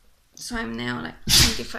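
One sharp sneeze erupts close by right after a short stretch of speech, loud and brief.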